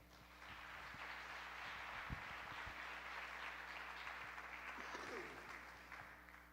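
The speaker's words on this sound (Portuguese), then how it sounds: "Obrigado, um aplauso para o pessoal aí." Church audience applauding during a Portuguese sermon on authority, a steady even wash of clapping throughout at moderate level, with a faint low hum underneath and a few brief thumps.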